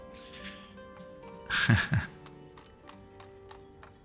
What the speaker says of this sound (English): Alright, there comes a horse wagon.